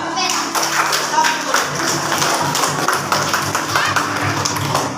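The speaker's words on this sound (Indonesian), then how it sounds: "Tepuk tangan." Children in a classroom clap their hands in a busy, rapid patter, with young voices talking over the claps throughout.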